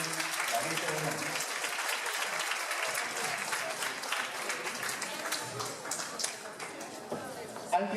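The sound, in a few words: audience applauding the authorities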